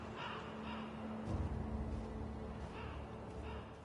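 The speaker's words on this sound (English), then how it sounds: "if you hear like I said, the crows," Crows cawing in the game Sekiro, in the Ashina Outskirts area, a few harsh caws at moderate distance over a steady ambient drone and low rumble, with no talk.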